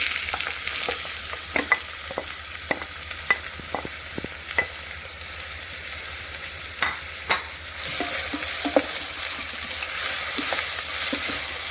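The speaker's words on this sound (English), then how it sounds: "And we will saute these onions till they get light brown on the saute mode" Onions sautéing in an Instant Pot on saute mode give a steady hiss of sizzling with frequent clicks and scrapes of a spoon stirring, close and moderately loud, with the sizzle swelling louder toward the end and no talking.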